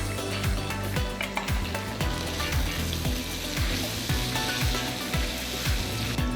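Steady sizzling and bubbling from vegetables stewing in a pot on the stove, with light rhythmic clinks of stirring underneath.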